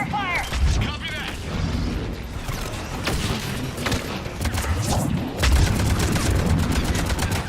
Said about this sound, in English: Give us some cover fire!